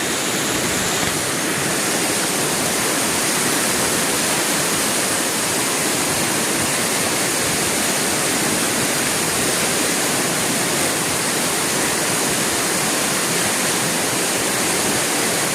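Floodwater rushes past in a loud, steady roar, a dense unbroken wash of noise close by with no voices heard.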